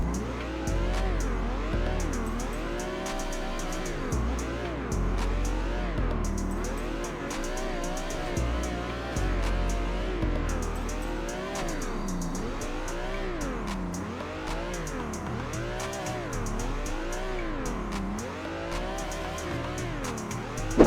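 Engine in Assetto Corsa revving hard and repeatedly as the car holds a drift around the track, rising and falling pitch sweeps with tire squeal, loud and continuous with no talk.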